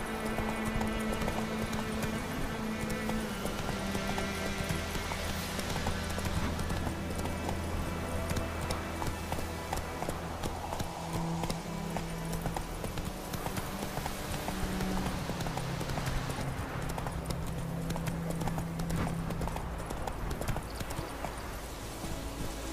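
Hooves of Roach, a horse in The Witcher 3, clip-clop in a steady trotting rhythm, continuous and moderately loud beneath game music and ambience.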